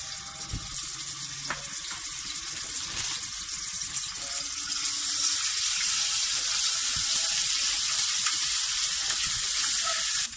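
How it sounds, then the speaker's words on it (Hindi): Garlic ginger paste drops into hot cooking oil in a kadhai. A loud, steady sizzle builds and then grows fuller and hissier partway through, with occasional small clinks and scrapes underneath. "अब मैं इसमें 1 खाने का चम्मच जो है वो लहसुन और अदरक का पेस्ट डालने लगी हूँ।"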